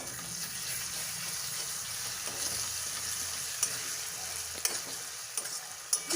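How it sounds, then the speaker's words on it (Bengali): Spices sizzle steadily in a hot pan for a doi katla (Bengali yogurt fish curry), a soft continuous hiss punctuated by a few scraping clicks of stirring. "সব মশলাগুলো আমি কিছুক্ষণের জন্য একটু ভালোভাবে আবারও কষে নেবো"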